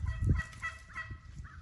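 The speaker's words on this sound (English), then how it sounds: "Here comes 4 or 5 big gobblers coming in." Four or five wild turkey gobblers call from a distance, faint rapid gobbling bursts repeating over low rumbling background noise.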